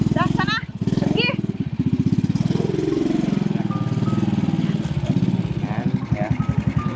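A motorcycle engine runs with a steady, low pulsing throb, heard under people talking over it for most of the stretch.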